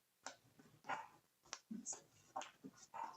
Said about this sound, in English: I don't know if you can hear my puppies barking in the background far away.